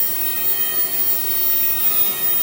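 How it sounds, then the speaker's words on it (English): A Dremel rotary tool power carving a wooden snowman, giving a steady, continuous high-pitched grinding whine that holds level throughout with no talking. "shut off the dremel when you're talking"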